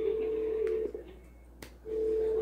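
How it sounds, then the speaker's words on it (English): A telephone ringback tone sounds during a phone call, a steady pure tone for almost a second, a pause, then the tone again, heard alone with no talk. "Why is there ringing?"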